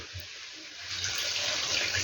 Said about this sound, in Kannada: ಚಿಕನ್ ಮುಳುಗೋ ಅಷ್ಟು ನೀರು ಹಾಕ್ಕೊತಾ ಇದ್ದೀನಿ